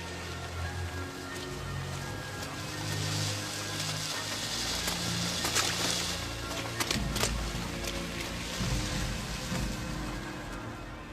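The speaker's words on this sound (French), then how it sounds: "Il y a de la pluie acide, dépêchez-vous." Acid rain falls in a film scene, a continuous hiss of rainfall with scattered sharper patters and clicks over a low rumbling bed, moderately loud and without voices.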